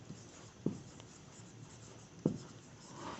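Pen strokes on paper while a maths proof is written out, a soft continuous scratching broken by two sharper taps, close and quiet, with no talking.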